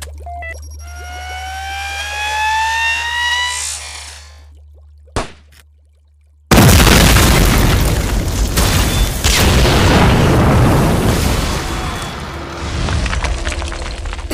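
Blasting charges go off with a loud, sudden boom after a rising whistle and a brief hush, followed by a long rumbling, crackling roar of debris that slowly fades.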